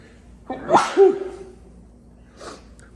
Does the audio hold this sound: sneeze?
yes